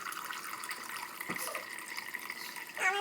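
Warm water runs faintly from a tap, a soft continuous pour and splash for salt dough, with a small clunk partway through and no talking.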